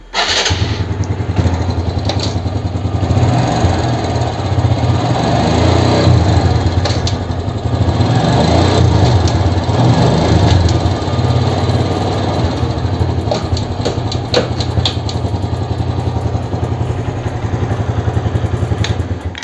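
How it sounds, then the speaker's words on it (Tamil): A motorbike engine starts after a chain adjustment and runs loud and close, a steady buzzing idle with small throttle variations and no talking. "இப்போ வந்துட்டு ஸ்டார்ட் பண்ணி நம்ம ஒரு ஓட்டி பார்க்கலாம்."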